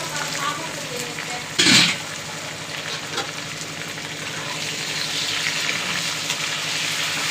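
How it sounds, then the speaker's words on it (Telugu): Curry leaves and ginger garlic paste fry in hot oil for a masala stuffed brinjal curry, giving a steady close sizzle with a brief louder burst of spattering near the start. "కరివేపాకు అల్లం వెల్లుల్లి పేస్ట్ రెండు నిమిషాలు కుక్ అవ్వాలి"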